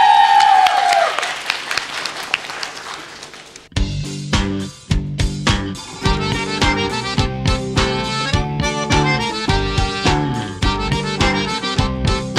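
Studio audience applause on a folk music TV show fills the first few seconds, then cuts off abruptly as loud rhythmic music takes over.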